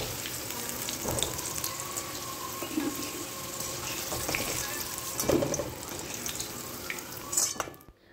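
Potatoes frying in oil in a home kitchen, a steady close sizzle and crackle running throughout with small pops, then cutting off abruptly at the end.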